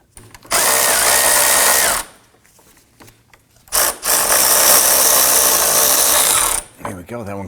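A power tool loosens the upper nut on a rear sway bar end link of a 2015-2024 Nissan Murano. It whirs loudly and up close in two long bursts, with a short quiet gap between them.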